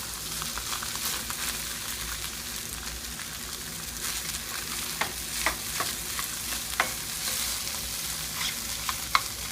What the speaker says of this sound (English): try to break up a big clump of the rice and mix everything in it